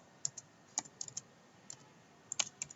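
Sparse, quiet keystrokes on a computer keyboard while writing Android Kotlin code for reading a call log, coming in small irregular clusters of clicks with pauses between them and no talking.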